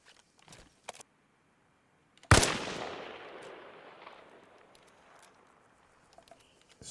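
A single loud sniper rifle shot loaded with incendiary and armor-piercing rounds in the Arma Reforger video game, with a sharp crack followed by a long fading rumble, plus faint clicks and footsteps before and after.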